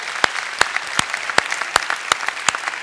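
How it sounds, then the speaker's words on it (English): Conference audience applauding faculty sponsors at a naval academy leadership event: a soft bed of crowd clapping with one nearby pair of hands striking loud, evenly spaced claps about three times a second. "So, please, a round of applause for the faculty sponsors."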